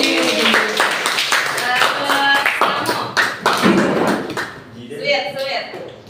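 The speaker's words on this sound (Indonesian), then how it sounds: "tepuk tangan buat Dedi" Hands clap repeatedly in an Indonesian classroom, a run of sharp taps and claps mixed with loud voices of students and a teacher talking over them.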